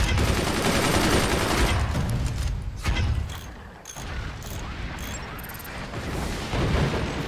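Weapons fire in a Forts battle, with a dense, continuous barrage of loud shots and booms rolling on throughout, no talking.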